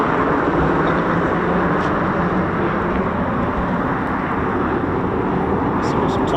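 Roaring jet noise from RAF Typhoon FGR4 fighters departing an RAF station, a loud, continuous broadband rumble that holds steady and near throughout.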